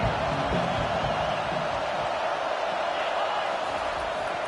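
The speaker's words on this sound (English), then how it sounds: "This crowd bringing the energy and noise early." A stadium crowd at an American football game, a dense continuous roar of cheering and noise that stays loud and even throughout, with a commentator talking over it.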